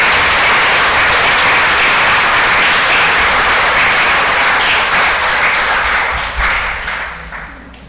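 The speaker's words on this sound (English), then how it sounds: "Please give a round of applause for our new members who are joining us today." A congregation at a Unitarian Universalist service in St. Pete breaks into loud, sustained applause to welcome new members, and the clapping fades out after about seven seconds.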